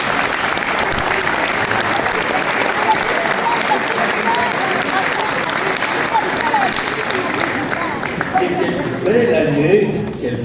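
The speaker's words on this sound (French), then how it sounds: "vous pouvez les applaudir à nouveau" Audience applause filling a hall after a children's choir performance, a dense, steady clatter of many hands lasting throughout, with crowd murmur beneath and a slight swell near the end.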